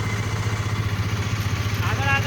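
A motorcycle rides ahead along a rough, potholed village road in Gujarat, its steady mid-pitched engine hum running close and continuous, with voices talking over it.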